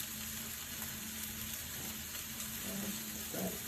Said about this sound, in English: we will put in our garlic and stir it around for a little bit